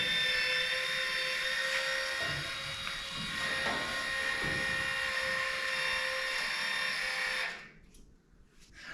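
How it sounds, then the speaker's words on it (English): A small 12-volt linear actuator powered by a Milwaukee battery whines steadily at close range for about seven seconds, then cuts off abruptly, leaving near silence. "So I got my little solenoid, my linear actuator hooked up to just run off a 12-volt Milwaukee here."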